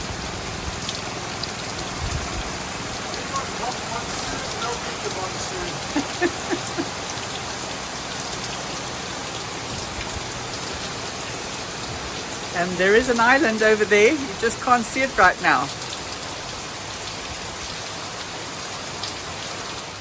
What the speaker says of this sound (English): this is the rain showers that keep coming through. Fortunately no thunder and lightning, but certainly torrential rain.